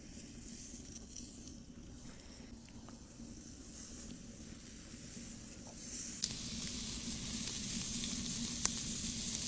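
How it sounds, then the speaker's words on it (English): Steaks sear on a Chiasson Smoke rocket stove grill, a steady close sizzle and hiss with no talking. It grows louder and brighter partway through and carries occasional small pops and crackles. "I'm going to go ahead and sear these steaks."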